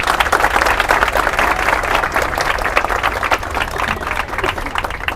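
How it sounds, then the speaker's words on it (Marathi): A large crowd at an outdoor Dahi Handi festival claps loudly and steadily, a dense, sustained roar of applause that carries on without a break. "जोरदार टाळ्या वाजू द्या"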